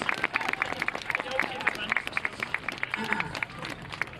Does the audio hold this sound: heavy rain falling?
no